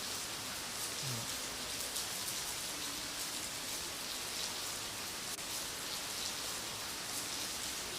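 Steady, even rain patters continuously on surfaces during a rainy-day stage of a cycling trip, a soft, uniform hiss with no voices.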